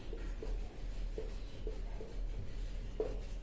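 Pen or chalk writing by hand, with soft scratchy strokes recurring every half second or so, faint and close over a steady low hum.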